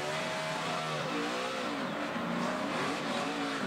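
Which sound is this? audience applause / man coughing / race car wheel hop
race car wheel hop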